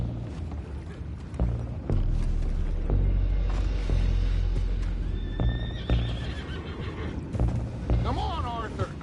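Horses whinny and neigh in Red Dead Redemption 2, with the horses down below near a ship's anchor. Rising, wavering cries come late over a low rumbling background, with some hoof clatter and voices speaking alongside.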